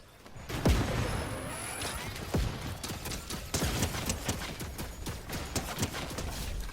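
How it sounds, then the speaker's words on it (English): Grenade launcher fire in Fortnite on a high-ping Oceanic server, heard as a quick run of sharp thumps and crashing impacts, fairly loud and busy throughout. "Grenade launcher being fired at us."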